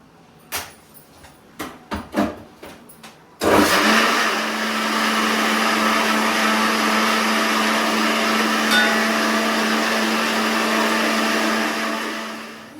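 A mixer grinder bursts into a loud, steady whirring roar to grind spices, preceded by a few clicks and clunks of the jar being set in place, then running continuously before winding down.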